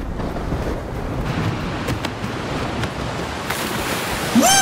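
Ocean waves wash and surge steadily in the Party Animals video game, a continuous broad rush of surf with a faint whistling tone near the end.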